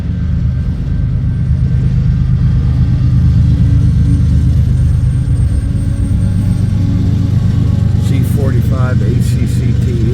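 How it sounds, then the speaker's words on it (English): A mid-train DPU locomotive in a passing freight train gives a loud, steady low rumble and engine drone throughout, with a brief squeal or whine near the end. "here comes the mid-train DPU"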